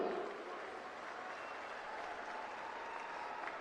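An audience claps through a continuous round of applause that is dense and even, a little louder at the start and then holding steady to the end, with no voices over it.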